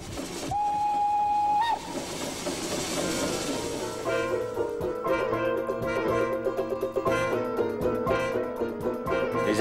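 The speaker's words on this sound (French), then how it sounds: "Vous avez vu cette petite locomotive?" Small Swiss locomotive with a top speed of 25 km/h moving along in a locomotive parade, a loud steam whistle blast at first, then rhythmic clattering and hissing of the running engine nearby.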